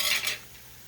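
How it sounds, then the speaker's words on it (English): Sausage being stirred in a skillet, a short close scrape with faint sizzling that fades quickly. "I'm just going to kind of stir this up in here"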